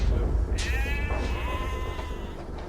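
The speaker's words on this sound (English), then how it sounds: "The Hollenbeck sheep are among the best in the state" Sheep bleating on a Montana ranch, a few clear wavering calls from nearby over a low rumbling background.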